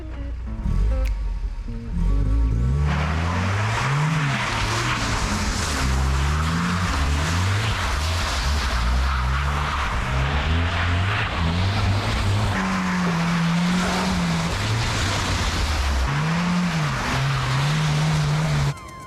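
A classic car drifts with its engine revving hard and rising and falling in pitch through gear changes, loud and continuous with tire noise underneath for the whole stretch.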